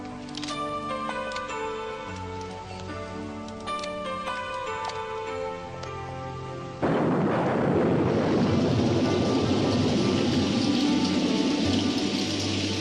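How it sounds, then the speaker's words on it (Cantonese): Heavy rain in a film scene bursts in abruptly midway as a loud, steady, enveloping hiss, after a stretch of ticking, music-like tones. "咁大雨不如入翻嚟啦"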